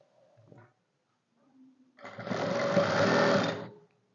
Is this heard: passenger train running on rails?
no